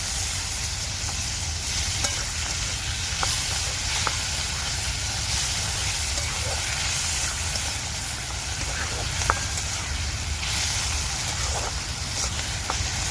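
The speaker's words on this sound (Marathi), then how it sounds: "इथे ना मी टमाटर दोन बारीक कापलेत ते पण घालून घेते तर आता टमाटर पण मी मिक्स करून घेते" Chopped tomatoes hit hot masala in a pan and are stirred in, giving a steady, close sizzle and frying hiss with occasional soft scrapes and clinks, continuous throughout.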